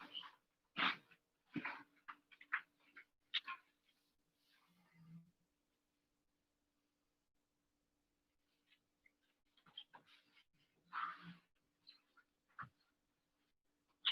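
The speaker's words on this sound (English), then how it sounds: "Dogs. Now they're starting to be loud." Dogs barking in short, scattered clusters at a moderate distance, with quieter yips and whimpers between bursts and a long lull in the middle before the barking picks up again.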